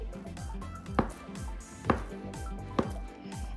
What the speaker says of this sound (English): I'm going to slice this into cubes